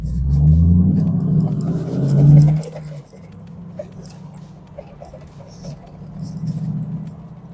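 A 2001 Ducati Monster motorcycle engine running: a loud, deep rumble for the first couple of seconds, then dropping to a steadier, lower throb that swells again near the end.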